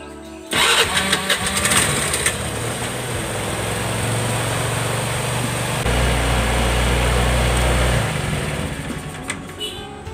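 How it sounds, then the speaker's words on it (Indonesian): A Honda motorcycle with a faulty idle is started, then settles into a steady, close idle that rises briefly in revs before dropping back, with no talking. "kita hidupkan dulu motornya. Kita starter ya, kunci kotak on ya."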